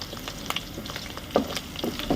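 Dried fish frying in a pan for a Sunday dried-fish curry, a steady sizzle and crackle broken by brief stirring scrapes and pops, close and moderately loud with no talking.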